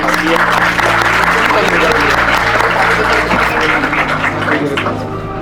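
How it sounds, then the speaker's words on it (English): Sustained applause from an audience at a school debate competition, dense clapping throughout at a steady loud level, tapering slightly at the very end. "I would like all of you to do a big round of applause for the participants"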